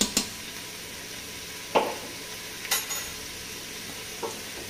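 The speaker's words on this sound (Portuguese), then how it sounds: "Vou misturar tudo, deixar dar uma refogadinha aqui na panela." Chicken and garlic sauté in a pan with a constant soft sizzle, broken by several scraping clinks of a utensil stirring against the pan at irregular intervals.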